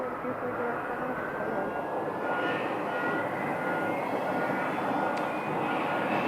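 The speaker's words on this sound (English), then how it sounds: "we have a Cessna Citation that's inbound" An inbound Cessna Citation business jet approaches Scottsdale airport, a steady, fairly distant engine roar that holds level throughout with a faint rising whine.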